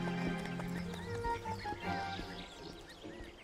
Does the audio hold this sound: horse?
yes